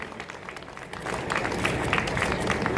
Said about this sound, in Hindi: हम हर्षोल्लास खुशी में जोरदार तालियों से एक बार आपको सम्मानित करें